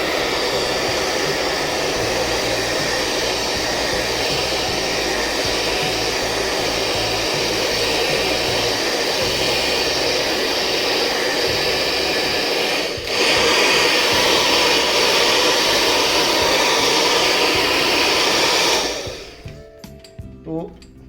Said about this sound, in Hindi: तो हल्का ड्रायर इस पे मार के इसको आप